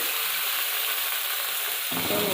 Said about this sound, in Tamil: இப்போ இந்த எண்ணெயில் வந்து நம்ம எடுத்து வச்சுருக்க பொருள் எல்லாமே ஒன்றாவே கொட்டி வதக்கிக்கலாம்